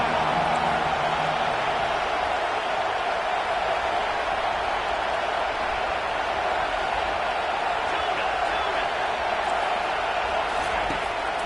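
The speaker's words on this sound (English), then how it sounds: "Decibels rising as the crowd gets behind this defense on third down." A college football playoff stadium crowd roars on third down, a dense, sustained wall of cheering from far off, with a commentator talking over it throughout.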